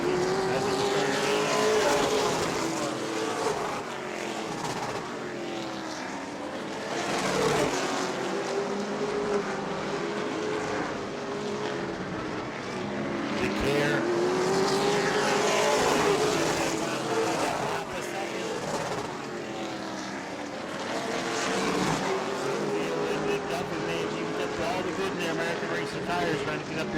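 Race cars at the Auburndale weekly short-track races roar around the track, engines rising and falling in repeated passing sweeps with pitch shifts as they go by, while a commentator talks over the steady racing noise.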